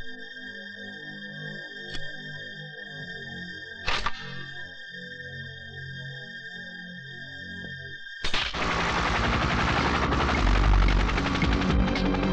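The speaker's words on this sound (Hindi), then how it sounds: "हेलीकॉप्टर में आ रहा है, कुछ गड़बड़ है।" A film sound effect of a helicopter approaching: after a sustained tonal hum and a couple of sharp hits, a loud broadband rotor roar cuts in and keeps building toward the end.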